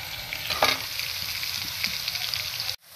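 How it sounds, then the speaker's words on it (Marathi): Onion frying in a pan for veg rolls, a steady close hiss of sizzling broken by a brief louder stir near the start, then cutting off abruptly at the end. "कांदा जास्त फ्राय होऊ द्यायचा नाही, थोडासा गुलाबी झाला तरी चालेल"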